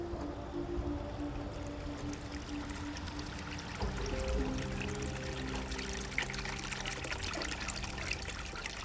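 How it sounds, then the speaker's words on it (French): Water in a stream flows around a rock, with both currents meeting behind it, making a continuous soft rushing and trickling wash, faint and steady, with no voices. "Quand l'eau contourne la roche des deux côtés et que les deux flux se percutent derrière"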